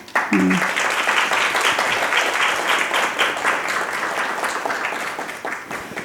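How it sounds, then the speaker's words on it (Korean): An audience at a book talk breaks into sustained applause right after a brief spoken prompt. The clapping is dense and steady and tapers gently near the end. "여러분 박수 쳐주실래요?"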